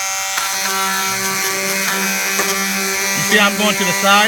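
Palm sander buzzing against the metal of a bus being converted into a home, stripping loose paint in a steady close vibrating drone while someone talks over it.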